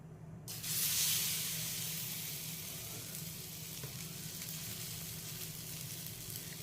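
A bread slice coated in besan batter fries in oil in a pan, letting out a sudden loud sizzle as it hits the pan and then a steady, even hiss with no talking.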